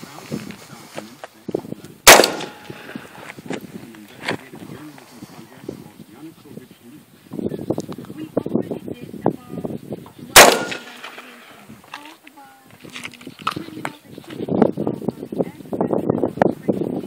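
AR-15 rifle fired from 20 yards: two sharp, loud cracks spaced several seconds apart, with people talking and reacting around them.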